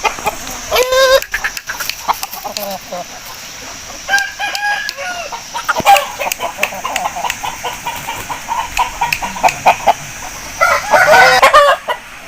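Aseel chickens cluck and a rooster crows repeatedly nearby, with busy farmyard bird calls and background clatter throughout.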